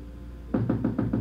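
Five firm knocks rap on a bathroom door in an evenly spaced rhythm, close and clear, starting after a brief quiet pause with no talking.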